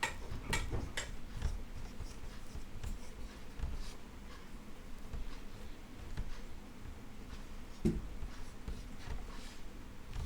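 Chalk or marker tapping and scratching on a board as a word is written out, a series of close, sharp ticks and strokes with no talking.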